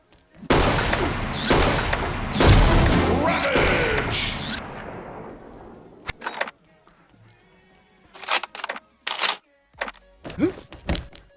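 A loud grenade blast in a shooter video game, a heavy booming burst that rolls and fades over several seconds, followed by scattered sharp gunshots and thuds.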